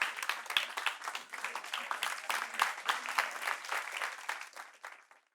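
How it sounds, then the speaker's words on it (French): An audience claps in a dense, lively burst as a woman comes forward on a talk show set, with individual hand claps audible, before the applause tapers off toward the end. "On l'applaudit pendant qu'elle arrive."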